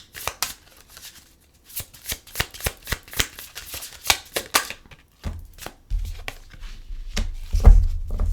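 Tarot cards are shuffled by hand in quick, crisp riffling bursts, a pause, then more irregular flicks and slaps of the deck, close and fairly loud with no speech.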